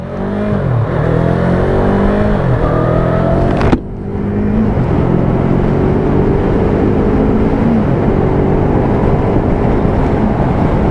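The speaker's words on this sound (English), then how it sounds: "we'll do a little bit of a speed run, just see what it's like for a 300cc" A Yamaha MT-03 300cc motorcycle accelerates hard on a speed run through its six-speed gearbox, loud engine whine climbing in pitch, a sharp gear change partway, then wind-rushed rising revs.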